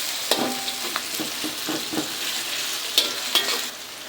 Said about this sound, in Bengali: আমরা পেস্টটা এলাচি দারচিনির সাথে ভেজে নেব।